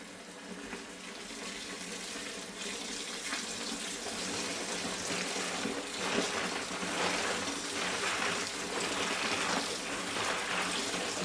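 Running tap water pours steadily over stainless steel tumbling media being rinsed of suds, a continuous close splashing hiss with faint metallic shifting underneath.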